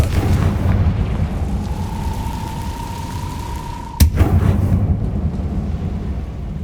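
A Confringo fire spell in the Hogwarts Legacy video game on PS5 sends out a rising whoosh that ends in one sudden loud blast, set over a low rumbling game ambience.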